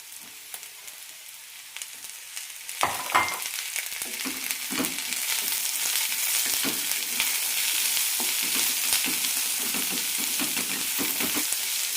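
Ash gourd pieces sautéing with onion in a pan, quiet at first, then a sizzle builds as the pieces go in and grows into a loud, steady fry, broken by repeated stirring scrapes close by.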